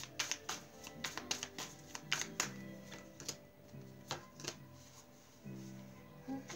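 Cards are shuffled up close in a series of quick riffling bursts and taps, irregular and fairly quiet, with no talking.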